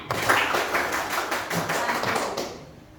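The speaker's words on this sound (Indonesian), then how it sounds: "Ya, tepuk tangan." Applause from students in a classroom, a short burst of many hands clapping together, fairly loud and close, fading out after a few seconds.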